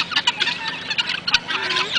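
Guinea fowl in their pen call excitedly, a dense, overlapping chorus of harsh, rapid cackles and chattering cries close by, agitated and continuous with repeated sharp bursts throughout.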